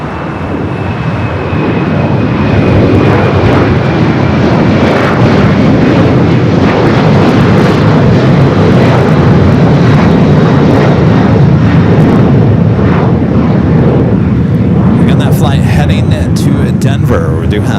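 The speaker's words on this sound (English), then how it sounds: "runway 25 right at full length, clear for takeoff" An American Airlines jet takes off from runway 25 right at LAX, its engines a loud, steady roar that holds through the whole stretch and thins slightly near the end.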